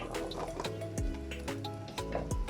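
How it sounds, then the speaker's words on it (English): Chickpeas are tipped into a pot of creamy sauce, giving a short, wet sloshing and splashing with liquid sounds that come in quick bursts, close and fairly loud, with no talk. "So now we're going to add the chickpeas,"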